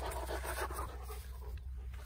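A dog pants steadily at close range on a farm for about two seconds, a soft rhythmic breathy huffing over low background rumble, with no voices.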